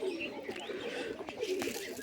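Pigeons in a farm yard coo softly at moderate distance, a couple of low, rolling calls overlapping faint background noise.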